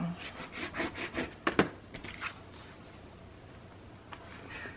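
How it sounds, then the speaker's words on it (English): Paper edges of a scrapbook pocket page are burnished by hand, giving quiet, quick rubbing strokes that come in a brisk series and then thin out into occasional soft scrapes. "Burnish that edge just a little bit."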